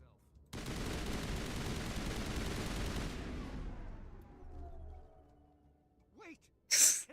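Assault rifle gunfire in the Mass Effect video game, a dense sustained burst lasting about three seconds that cuts off into a decaying tail, followed by a short sharp sound at the end.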